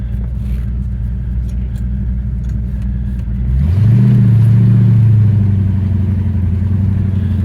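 A 1966 Ford Fairlane GT 390 with a four-speed idles with a steady low rumble, then revs hard and loud partway through as it pulls away on a test drive, holding a strong, sustained engine roar to the end.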